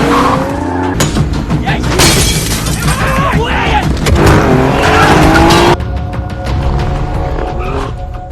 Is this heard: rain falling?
no